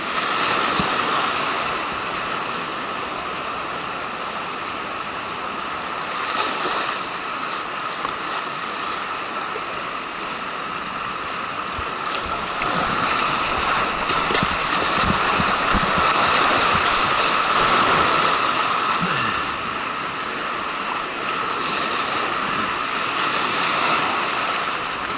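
A boat runs through choppy river waves, giving a constant loud roar of rushing water and wind with surges of spray throughout.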